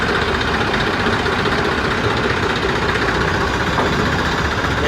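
A steady, loud tractor engine rumble runs throughout, constant and unbroken, close by with no voices, as the tractor's lift struggles to raise its load.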